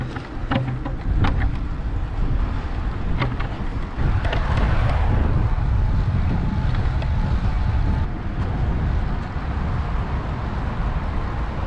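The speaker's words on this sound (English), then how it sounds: "It's a really cold northerly wind" Cold northerly wind blowing onshore at a beach while cockle picking, a steady loud roar buffeting the microphone throughout, with gusts swelling and no talk.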